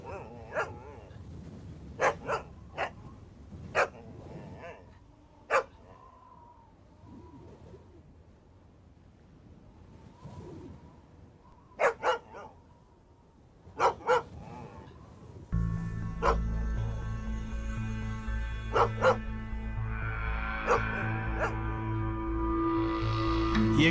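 A dog barks in repeated sharp bursts at close range, scattered irregularly through the first half, then continues more faintly under a swell of music.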